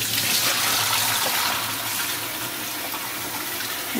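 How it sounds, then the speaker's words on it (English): Tap water runs steadily over salted bacalao (cod) fillets being rinsed, a continuous close-up hiss and splash with no talking. "I am going to rinse the fish under a running tap."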